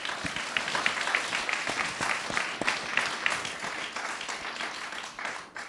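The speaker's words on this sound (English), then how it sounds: "let's give our panelists a round of applause again" Audience at a data science career panel applauding the panelists, a steady, dense wash of clapping from many hands in a room, sustained for several seconds before gradually thinning out.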